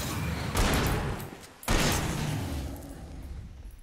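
Pistol shots in the game Alan Wake: two loud, broad booming blasts about a second apart, each trailing off into a rumbling echo, with no talk.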